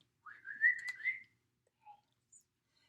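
A boy whistling for his dog: a short, breathy rising-and-falling whistle heard close and alone, followed by a few faint chirps.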